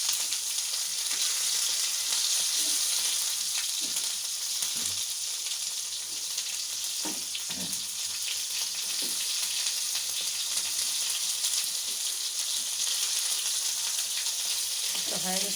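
Spices fry in hot oil in a pan with a steady, close, continuous sizzle, and occasional soft scrapes and taps of stirring break through the hiss.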